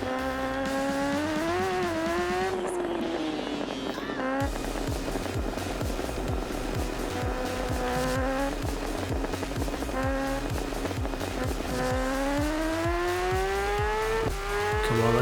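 Motorcycle engine at full throttle in RiMS Racing, a loud sustained whine that climbs and drops through gear changes, revving hard out of turns with little else audible.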